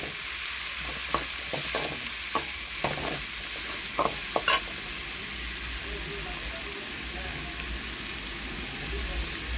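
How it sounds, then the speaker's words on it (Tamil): Tomatoes sauté in a hot pan for hotel-style sambar, with a steady close sizzle broken by repeated spatula scrapes and taps over the first five seconds before the frying continues alone. "தக்காளி சேர்த்துங்க. சேர்த்துட்டு நம்ம நல்லா வதக்கி போகிறோம்."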